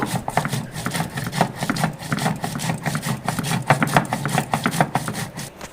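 Green chili is ground finely on a traditional grinding stone, a repeated scraping and rubbing stroke with steady rhythmic pulses, close and alone.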